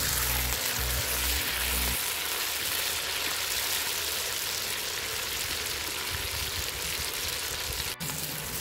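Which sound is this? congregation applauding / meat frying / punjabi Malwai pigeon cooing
meat frying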